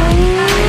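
Racing simulator video game car with a loud, close engine roar and a squealing tire skid, one brief continuous burst with no talk.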